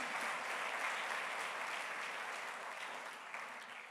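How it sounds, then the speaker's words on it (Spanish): A church congregation applauds during a Sunday service, a steady broadband patter of many hands clapping at moderate level that fades slightly toward the end, with no talk over it. "sí démosle un aplauso al Señor porque Dios es bueno."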